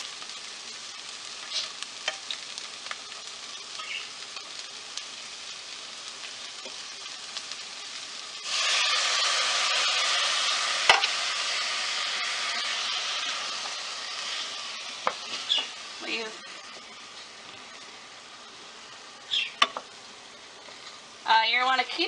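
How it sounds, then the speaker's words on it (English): Shrimp risotto rice being stirred in a pan with ladles of hot stock, a steady low sizzle that swells louder midway, punctuated by soft scrapes and knocks of the spoon. "You want to keep stirring and adding stock a ladle full at a time"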